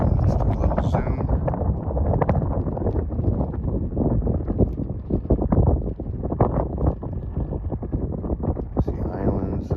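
Wind gusting across a lakeside campsite on a sandy beach, buffeting the microphone in uneven rumbling bursts throughout, with faint water and movement sounds underneath.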